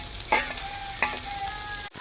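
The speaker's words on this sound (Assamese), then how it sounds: "এতিয়া মই খুন্দি থোৱা মছলাখিনি দি অলপ সময় ভাজি ল'ম।" Pork frying in a pan with ginger, garlic, dry chilli powder and ground spices, stirred in three short scraping bursts over a steady close sizzle, with no talk.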